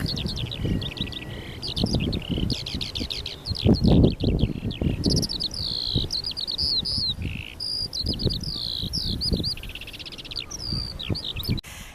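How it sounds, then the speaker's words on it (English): A skylark sings in a long stream of rapid, high warbling trills and chirps, steady and fairly close, over a low rumble of wind. "Can you hear that bird, Melly? I can. Oh look, it's just coming into land. I think it's a skylark."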